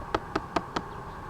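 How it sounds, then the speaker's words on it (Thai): A car windshield washer nozzle is tapped to clear a blockage: four sharp, small knocks at an even, quick pace, close and distinct against a quiet background. "เคาะดู"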